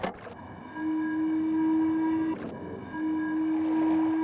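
Wind chime sound in the video game Myst: a sustained, bright ringing tone with layered overtones, briefly broken by a soft knock before it resumes, close and steady with no voices.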